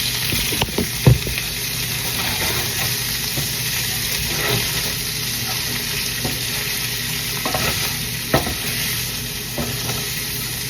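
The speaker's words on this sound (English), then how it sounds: "I'm gonna turn it down to like low heat right now. I'm gonna stir it all up." Tofu sizzling in a pan on low heat while being stirred: a constant close hiss with occasional spoon clacks and scrapes against the pan, no voices.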